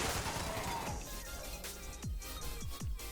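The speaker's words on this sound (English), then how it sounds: "That's a lot of explosions." Rapid explosive .50 cal machine gun fire in Fallout 76, a dense stream of blasts and impacts with several deep booming bursts toward the end, moderately loud.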